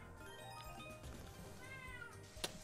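A cat meows loudly over a busy background of electronic game music and jingles, with a sharp chime near the end.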